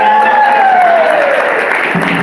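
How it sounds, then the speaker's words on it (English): Loud audience applause at a college Founders Day gathering in Tacoma, a dense, continuous roar of clapping filling the room, with a sliding tone running underneath. "Can we give them another round of applause?"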